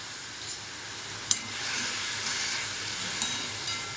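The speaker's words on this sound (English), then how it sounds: "We will saute this also for 3 minutes." Grated watermelon rind sautéing in a pan with tamarind, asafoetida and spices, a constant close hissing sizzle with a few faint stirring clicks.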